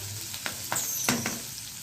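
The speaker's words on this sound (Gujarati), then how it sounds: "આમાં મેં સેજ ઘી નાખ્યું છે અને તેલ નાખ્યું છે મેં વઘારમાં" A bay leaf sizzles in a ghee and oil tempering for a Gujarati meal, a steady close frying hiss broken by a few sharp crackles and pops.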